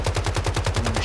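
Rapid automatic gunfire from the video game Once Human, about a dozen evenly spaced shots in one second, loud and sustained like a single burst, with no talking over it.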